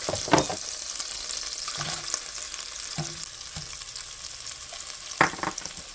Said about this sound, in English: Now I'm going to go ahead and saute that until it gets opaque